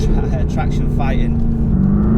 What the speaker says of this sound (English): You tickle the throttle and it lights the back wheels up.